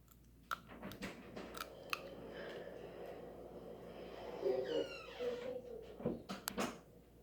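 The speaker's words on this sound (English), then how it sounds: "So I use my Chewy to make sure that the aligners are in place." Someone bites down on a Chewy aligner seater to press clear aligners into place, giving soft, close, irregular squishing and clicking bites with sharp little taps scattered between, at low volume and without speech.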